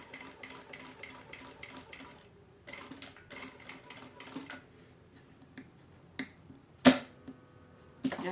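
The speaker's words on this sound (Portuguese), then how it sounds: "essa costura eu vou fazer vai e volta várias vezes para ficar bem reforçada" A sewing machine stitching back and forth several times to reinforce a seam on a suspender: quick bursts of rapid mechanical whirring separated by short pauses, then a few isolated clicks and taps.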